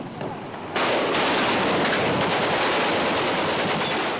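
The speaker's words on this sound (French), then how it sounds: "Les canons de 20 mm vont se relayer pendant une demi-heure, sans discontinuer" Rapid, continuous 20 mm cannon fire during combat around Tripoli, starting after a brief quieter moment and then pounding on without pause, loud and dense like a sustained barrage.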